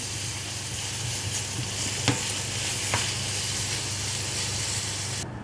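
Onion fries in a little olive oil, giving a constant close hiss and sizzle with a couple of faint taps from stirring.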